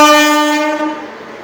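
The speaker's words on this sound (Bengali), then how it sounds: "13021 হাওড়া রাক্সোল মিথিলা এক্সপ্রেস 2 নম্বর প্ল্যাটফর্মে আমাদের ঢুকে গেছে" The 13021 Howrah–Raxaul Mithila Express sounds a loud, sustained horn as it pulls into platform 2 at Bardhaman station, the blast close and steady before fading slightly.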